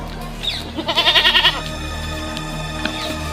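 A goat bleats loudly nearby in a quavering, wavering cry, preceded by a shorter call, with faint quieter bleats afterward.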